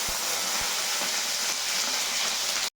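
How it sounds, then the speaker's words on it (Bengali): Capsicum pieces frying in hot oil in a wok give off a steady, bright, close hiss that carries on evenly, with a couple of soft low knocks near the start, before it cuts off abruptly. "তেলে কোনো ফোড়ন দেওয়ার আগেই সবার আগে আমি ক্যাপসিকামগুলোকে কিন্তু ভেজে নিচ্ছি"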